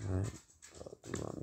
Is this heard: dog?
yes